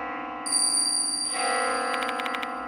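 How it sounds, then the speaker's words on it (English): A bell rings in the video game Spirit Hunter Death Mark II, heard as a steady high metallic ringing tone alone, fairly quiet, with a faint rapid trill near the end. "Where's the bell sound coming from?"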